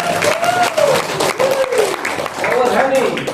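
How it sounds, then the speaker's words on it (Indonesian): Clapping hands fill the room in a steady patter of applause while a voice talks over it. "Tepuk tangan sih buat Ustadz Imron."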